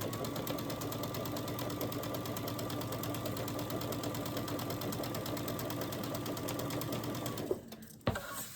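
A sewing machine runs continuously and evenly, stitching a long seam on hourglass quilt blocks, then stops near the end with a couple of clicks and handling sounds.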